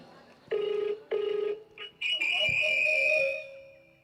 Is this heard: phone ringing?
yes